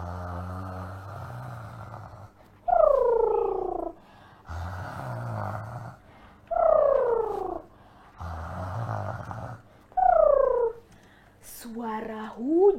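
A storyteller's voice imitates snoring in a repeating rhythm, long nasal rasping inhales alternating with falling whistled exhales, several cycles at close range.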